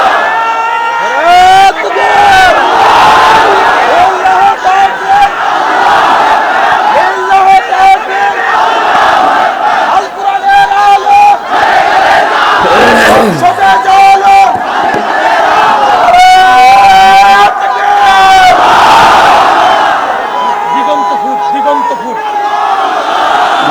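A large crowd of men roars the takbir chant Allahu Akbar in loud, repeated unison waves at a gathering where a young man converts to Islam, the shouts rising and falling continuously throughout.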